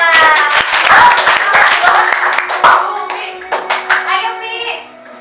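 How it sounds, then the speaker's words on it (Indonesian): Students in a classroom clap their hands during a microteaching lesson on social stratification, a short burst of sharp, close claps mixed with children's voices talking and calling out. "tepuk tangan."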